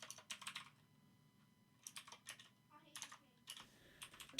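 Quiet typing on a computer keyboard, with irregular bursts of rapid key clicks separated by short pauses, close by and faint.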